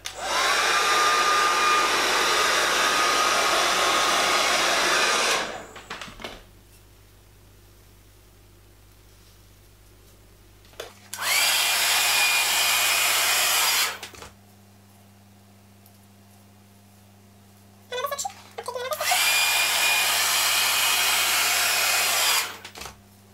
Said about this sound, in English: I'm going to place the brush underneath like this and make sure that it gets to the roots, and I'm going to blow dry